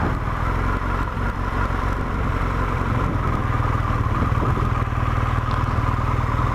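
A red car's engine revs on a mountain pass, a steady, loud, rumbling drone that holds on throughout with no clear separate peaks.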